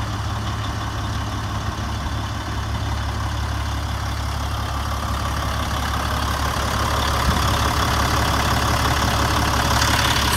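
A 1999 Freightliner custom-built motorhome with a Caterpillar C12 diesel idles steadily, a loud, continuous low rumble with a slight knock that swells a little near the end, with no talking over it.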